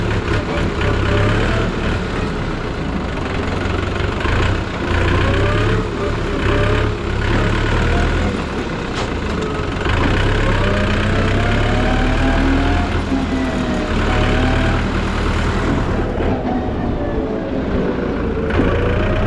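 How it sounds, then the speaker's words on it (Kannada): A tractor engine runs nearby with a constant, loud low rumble and steady drone, no pauses and no talking. "ಗಾಯ್ಸ್, ನೋಡಿ ಟ್ರ್ಯಾಕ್ಟರ್."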